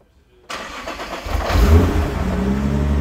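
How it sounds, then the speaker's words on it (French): Nissan GT-R with a forged engine cranks over and fires after a short silence, the engine catching loudly, swelling in a brief rev with a deep rumble, then settling into a steady, throaty idle up close. "on va la démarrer pour le plaisir, mais on connaît déjà le son d'une GTR"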